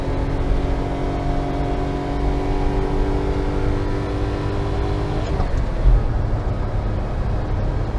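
A 547cc kei truck engine droning steadily on the road, a continuous loud hum with rising tonal whine that shifts and drops partway through, road noise throughout.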